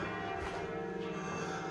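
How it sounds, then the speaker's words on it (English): Church bells ring at noon along the Via Dolorosa in Jerusalem, heard faint and distant as a sustained metallic hum over an outdoor street background. "Can hear the church bells."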